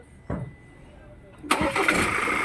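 A Ford Ranger 2.0 with a no-start fault cranks briefly, then catches and settles into a steady, rough idle, close by, with a short voice just before.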